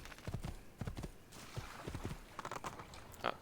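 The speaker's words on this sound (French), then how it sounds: "je reprends mon cheval" Horse hooves clip-clop on the ground in the video game Assassin's Creed 2, a brisk, uneven run of close, clear hoofbeats under a faint game background.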